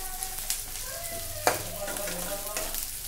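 Chicken liver frying with ginger, garlic, onion and green chilli, a steady close sizzle and crackle broken by a few sharp stirring clatters, with no talking.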